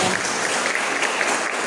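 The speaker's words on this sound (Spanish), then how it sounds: "¿Cuántos le dan un aplauso al Señor en este tiempo?" A church congregation applauding the Lord during a Spanish-language sermon, a steady wash of many hands clapping for a moment.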